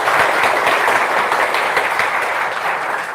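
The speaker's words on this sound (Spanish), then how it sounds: "Aplausos, por favor." Loud, continuous audience applause welcoming actress María Cecilia at a press talk held with the National Army, a dense wash of many clapping hands holding steady throughout.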